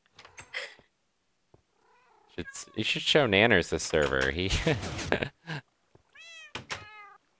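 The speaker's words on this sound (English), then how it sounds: "Look at all these cats." Cats meow repeatedly in the video game Minecraft, high-pitched cries at the start and end, while a voice talks over the middle stretch.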